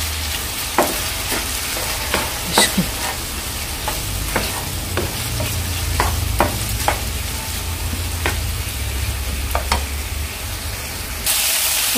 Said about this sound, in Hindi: आनी डार्क सॉस घाता 1 टेबल स्पून घालते हांव बरो मिक्स करून घेता